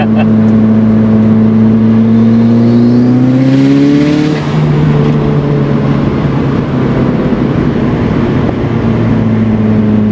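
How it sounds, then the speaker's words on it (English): A 380 hp Mitsubishi Lancer Evolution 6 turbo engine pulls hard under acceleration, heard loud from inside the car as a droning tone that climbs in pitch, then a gear change and a steady rougher roar continuing. "that comes in hard, that does, that turbo"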